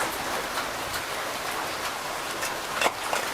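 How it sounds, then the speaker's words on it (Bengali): Heavy rain pouring outside, a dense steady hiss of drops on surfaces with a few sharper splashes, no voices. "আসলে বাইরে খুব পরিমাণে বৃষ্টি হচ্ছে, এই হলো বাইরের অবস্থা।"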